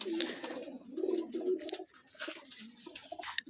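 Pigeons, black-eyed jack breed, cooing close by in a small loft, several soft throaty coos rising and falling in rounds with faint rustling between them.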